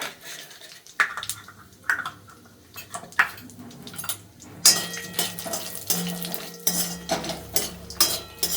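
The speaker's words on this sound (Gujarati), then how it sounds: "મારે એને શેકી લેવાનું છે" A spoon scrapes and clinks against a metal pan while khajur pak, a date mixture, is stirred and roasted in ghee. The strokes come in an irregular rhythm, close and fairly loud, with no talk over them.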